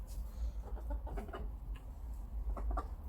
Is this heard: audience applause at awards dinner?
no